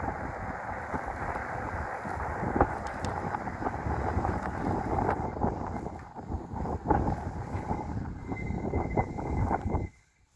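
Steady rushing wind buffets the microphone while riding an electric bike capable of over 40 mph, a continuous loud roar with gusty swells that cuts off abruptly near the end.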